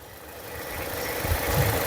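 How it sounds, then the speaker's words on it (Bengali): A 2014 Toyota Harrier's engine idles steadily with a low rumbling drone, growing slightly louder toward the end, with no voices. "গাড়ি বর্তমানে ইঞ্জিন স্টার্টে আছে"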